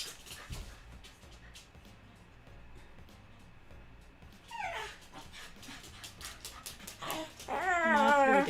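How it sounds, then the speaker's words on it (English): A puppy whimpers and whines in soft, sad bursts up close, quiet at first and then growing into louder, higher cries toward the end. "Moth makes the saddest sad puppy sounds."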